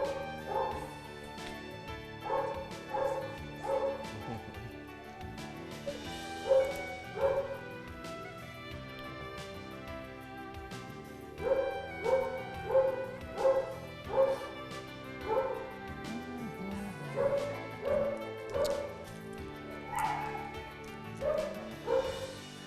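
A dog at a vet clinic barks, yips and whimpers in repeated clusters of close, sharp vocal bursts over about twenty seconds, with short quieter gaps between volleys.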